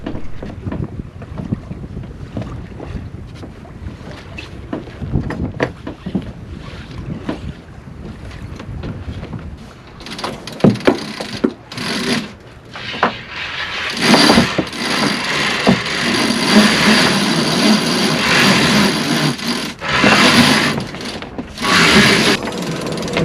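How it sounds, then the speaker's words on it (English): Wind rushes past a sailboat under way, with clicking and ratcheting from a winch being cranked in bursts, growing louder and hissier partway through. "let it play out with the sounds of sailing and cranking and all that other stuff"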